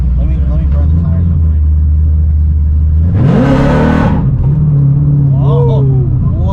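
A 1000 hp ZL1 Camaro idles with a deep rumble, then revs hard in a loud, roaring burst during a burnout before settling back to a steady idle, with voices talking over it.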